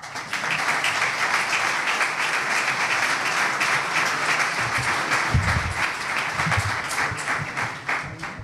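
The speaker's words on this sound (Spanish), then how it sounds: "Un fuerte aplauso para él." An audience applauds at an awards gala for a football supporters' association, a sustained, loud wash of many hands clapping that holds steady for several seconds with a few low thumps underneath.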